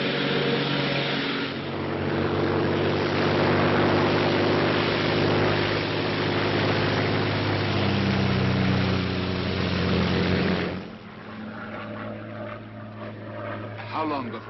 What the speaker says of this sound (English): This very moment, a Royal Air Force plane is waiting for us at a secret landing place.